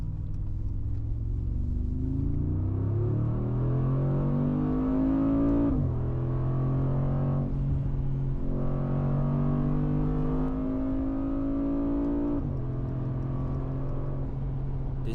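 Mercedes-AMG G63 with its 586 hp engine accelerating on a highway, heard from inside as a steady low rumble whose pitch climbs through several gears, dropping briefly at each upshift.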